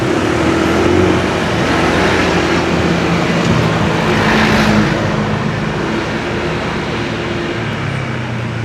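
Dense traffic jam of cars and motorbikes on a busy Bali road, a steady loud wash of engine drone and road noise with no clear gaps or distinct passes.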